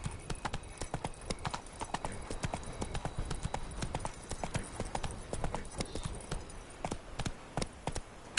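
In The Witcher 3, the horse Roach trots along with clear, rhythmic hoof clip-clops that carry on throughout, and faint speech can be heard now and then.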